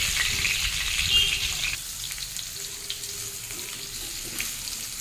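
Pumpkin, potato and pointed gourd fry in oil with a steady, moderate sizzle, softening slightly partway through as the flame is lowered, with faint scraping and clinks from stirring.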